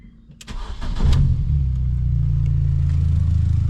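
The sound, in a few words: car engine starting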